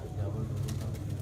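A brief, close burst of pigeon cooing comes as a contest bird returns to its loft in Sialkot, Punjab, with a voice speaking over it.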